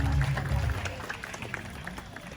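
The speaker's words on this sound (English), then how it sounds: "how about a round of applause for Aslan, our binturong" An audience at a night safari animal show gives a short round of applause, a soft, fairly distant patter of many hands that fades quickly.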